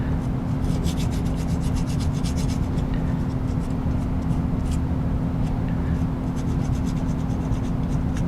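Rough sanding rounds off the corners of a model aircraft canopy, a steady rasping scrub of rapid back-and-forth strokes, close and continuous, over a constant low hum.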